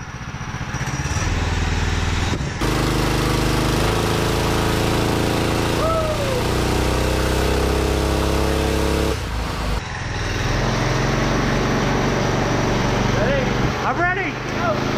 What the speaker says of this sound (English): we're going to have Keith operate the dyno brake, and we're going to operate the gas pedal